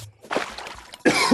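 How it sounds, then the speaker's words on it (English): A single harsh cough bursts out at close range near the end, preceded by a softer throat-clearing rasp, with gameplay sounds from Terraria faintly underneath. "I am sorry for coughing."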